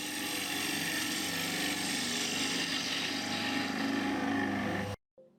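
A wood-turning gouge cuts the inside of a wooden bowl on a spinning lathe, a steady close-up rushing, scraping hiss that holds for about five seconds and then stops abruptly.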